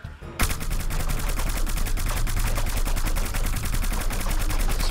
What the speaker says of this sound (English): Suppressing fire, suppressing fire.